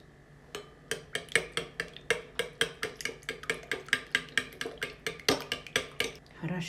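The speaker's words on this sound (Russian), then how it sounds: "Хорошенько размешаем" A utensil knocks rhythmically against a bowl, about twenty quick, even clinks as a garlic-mayonnaise salad sauce is stirred briskly, close by.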